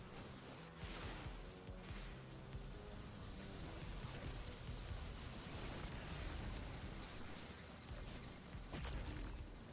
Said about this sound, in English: I'm going to grenade launcher here